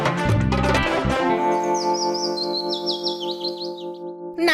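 Cartoon pigeon calls in a high, warbling chirp that sweeps up and down after a burst of busy background music, the tones fading out before a sharp cut at the end.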